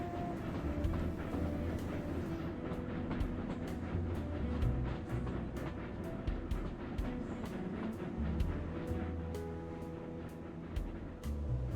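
A train runs in the video game Railroad Tycoon 2, giving a continuous rolling rumble with regular clicking beats of wheels over rail joints, steady and moderately loud with no talk.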